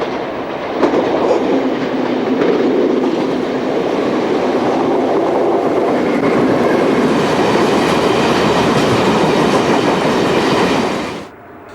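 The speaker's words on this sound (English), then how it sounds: "this morning trainload of empty steel carriers from Roundhouse to Margam" A freight train hauling empty steel carriers runs from Roundhouse to Margam past Great Western semaphore signals near Droitwich. Its loud, continuous rumble carries rhythmic clickety-clack from the wheels, holds steady for about eleven seconds, then drops away abruptly.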